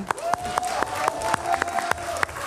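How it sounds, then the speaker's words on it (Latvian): Bursts of clapping from a crowd, with sharp claps scattered over a sustained tone, steady and moderately loud throughout. "Aplausi."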